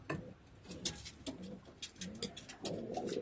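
Racing pigeon hen giving soft repeated coos close by, low throaty calls in a loose rhythm with faint ticking in the background.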